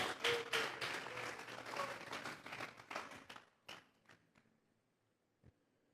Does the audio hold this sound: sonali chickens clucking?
no